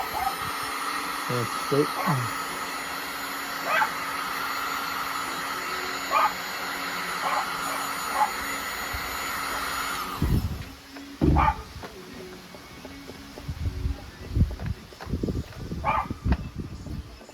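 A heat gun softening adhesive on a Can-Am Ryker tank protector blows a steady, loud airy roar for about ten seconds, then cuts off, followed by close handling knocks and a brief spoken remark.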